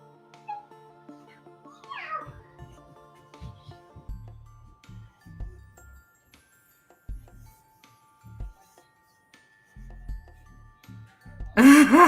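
Cats give a single rising meow early on, followed by scattered light thumps and soft shuffling sounds indoors, with a brief louder rustle at the very end.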